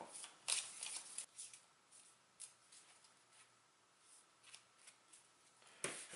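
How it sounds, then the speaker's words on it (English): Soft riffling and clicking of a deck of game cards being shuffled by hand, quiet and close, in short bursts with brief pauses between them. "So 1 card I have to shuffle to get the other 5."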